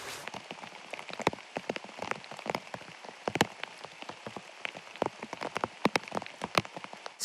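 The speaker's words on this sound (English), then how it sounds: "We had to cook under the rain." Heavy rain pours steadily during a storm at an outdoor wilderness camp, with dense hissing patter and frequent sharp close drop impacts, no voices.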